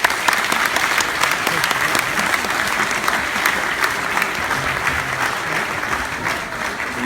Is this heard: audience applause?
yes